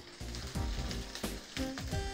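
Onion and carrot sauté in a hot pan, a brief burst of sizzling with a few sharp stirring knocks and scrapes, close and moderately loud.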